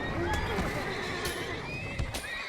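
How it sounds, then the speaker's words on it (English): A horse neighs and whinnies with hoof clip-clop in the fantasy online game Age of Conan, loud and close against a busy game soundscape. "Seems we got an extra horse too"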